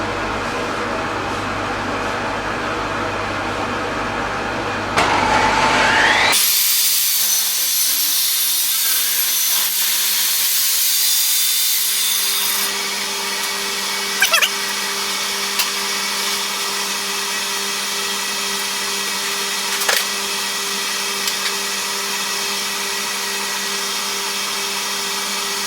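An oak board is fed through a saw with a mitre guide, a loud whining, high-pitched cut lasting several seconds over a steady motor hum, followed by the machine running on with a few faint knocks.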